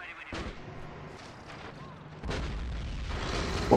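Gunfire and artillery in a Men of War: Assault Squad 2 Cold War mod battle, with distant thuds, then a heavy rolling barrage building to a loud boom at the end, and a voice speaking briefly.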